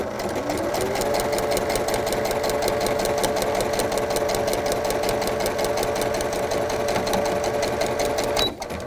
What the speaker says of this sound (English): go ahead and start sewing